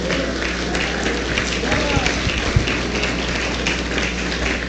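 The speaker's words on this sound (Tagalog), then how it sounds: "bigyan natin ng malakas na palakpak ang ating dakilang Diyos" Church congregation giving loud applause to God at a men's worship service: dense, continuous clapping filling the room, with voices mixed underneath.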